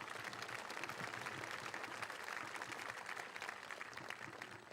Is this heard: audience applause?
yes